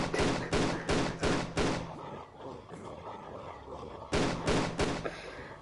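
Gunshots in Tomb Raider: The Angel of Darkness Remastered: a burst of five sharp, loud shots in quick succession, a pause of rumbling game ambience, then another rapid volley of about four shots.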